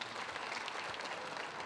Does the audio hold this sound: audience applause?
yes